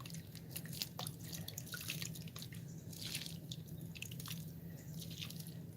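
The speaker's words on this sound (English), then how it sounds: "Gotta throw it a little water" Water is poured onto sprouting bok choy seedlings in soil, soft close drips and patters scattered over a few seconds with a faint low hum underneath.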